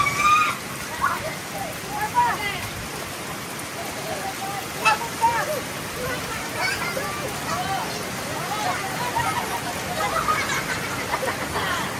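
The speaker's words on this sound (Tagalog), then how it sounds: "Ulan na gani." Rain falls steadily outdoors, a continuous hissing patter with occasional drips, while people talk and children's voices are heard over it.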